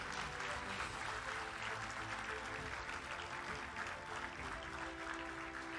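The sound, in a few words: audience applause at a graduation ceremony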